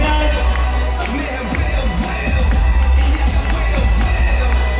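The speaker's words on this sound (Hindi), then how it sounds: "keep clapping" An event crowd cheers for Aamir Khan with continuous clapping and shouts, a dense, loud roar that holds steady throughout.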